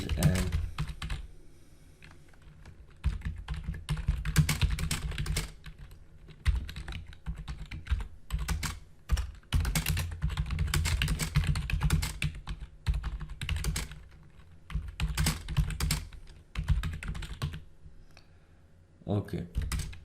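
Close typing of HTML text on a computer keyboard, bursts of quick keystrokes separated by short pauses.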